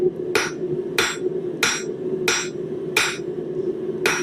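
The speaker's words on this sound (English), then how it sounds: "any bumps and lumps are taken out as we hammer." A hammer strikes hot metal on an anvil while a corkscrew is forged, ringing out in six loud, evenly spaced blows about two-thirds of a second apart over a steady hum.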